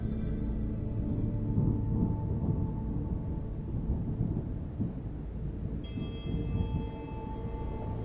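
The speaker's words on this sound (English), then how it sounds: "The sound of the rain appeared to startle them" Steady rain with low rolling thunder rumbling throughout, a continuous dense wash of sound without pauses.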